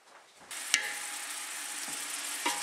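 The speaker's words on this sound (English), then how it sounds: "You got the onions chopped up. You can hear a little bit of sizzle going on." Chopped onions hit a hot pan and start sizzling, a close, steady broadband hiss that jumps in suddenly, with a few sharp clinks and scrapes of stirring.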